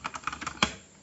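A short burst of keystrokes on a computer keyboard, about eight quick close clicks ending in one louder tap, then quiet.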